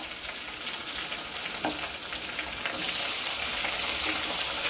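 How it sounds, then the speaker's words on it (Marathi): Tomatoes sautéing in a pan with garlic and green chili, a steady close sizzle with scattered crackles that swells louder partway through, no voices. "टमाटे पण छान परतून घ्यायचे।"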